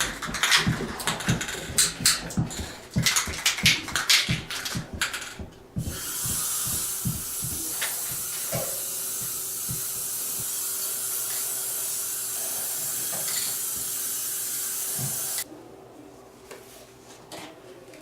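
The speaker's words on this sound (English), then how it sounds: "I'm going to get started and spray the table legs." Clicking rattles of a spray can being shaken, then a long steady hiss of spray paint on coffee table legs for about ten seconds, close by, ending abruptly.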